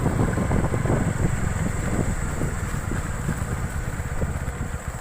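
Bajaj Pulser NS160 BS6 motorcycle (2020) riding along a road, a steady engine drone mixed with heavy wind rush across the microphone, continuous and close throughout with no talking.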